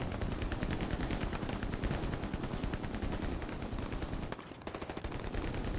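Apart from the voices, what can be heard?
heavy gunfire in the video game Hell Let Loose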